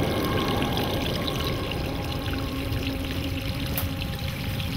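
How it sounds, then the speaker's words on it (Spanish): Oil-contaminated water pours steadily from a gooseneck pipe into an open waste pit outdoors, a continuous close rushing splash with no break. "continúa esta agua vertiéndose en ese lugar"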